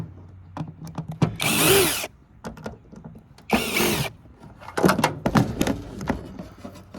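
Cordless power drill backing Phillips screws out of scrap aluminum, a few short whirring bursts of the motor separated by quiet clicks and handling noises, close by, with no speech.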